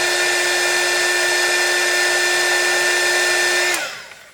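A hair dryer blows hot air onto an NTC temperature sensor on a Samsung air conditioner circuit board, a loud, steady whining roar that shuts off near the end, its pitch sliding downward as it winds down.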